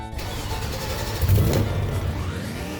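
A 1965 Pontiac GTO engine rumbles at idle in the Roblox game Greenville, a steady deep loping burble with a brief swell in the middle, close and alone with no talking.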